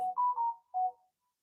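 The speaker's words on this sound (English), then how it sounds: "That was my phone." A mobile phone ringtone plays a short electronic melody of three clear tones, loud and close, then stops abruptly into silence.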